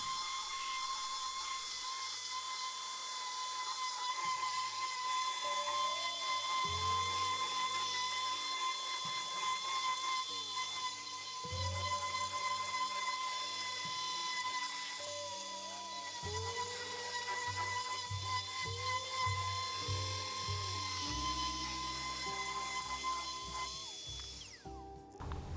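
Power sander working over filler on a boat's doghouse seat during fairing, a steady high whine running throughout with repeated lower pulses as the tool presses and lifts, close and loud with no talk.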